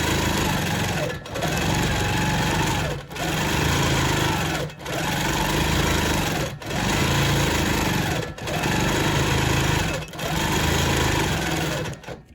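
Long arm quilting machine stitching an orange peel curve design, a loud steady mechanical whir in long runs broken by short regular pauses.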